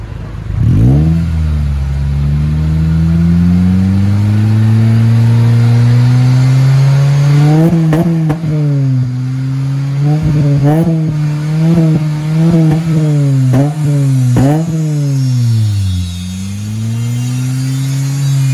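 A Honda Civic FD 2.0 with a long ProDrager exhaust tip and a 2-inch mid-pipe idles loudly up close, then is revved repeatedly in a series of quick rising and falling blips before settling back to a deep idle.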